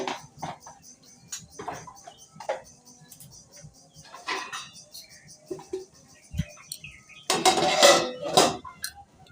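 Kitchen clatter around a pot of mango being covered with a lid: scattered metallic clinks and scrapes at close range, quiet gaps between them, ending in a louder burst of rattling contact.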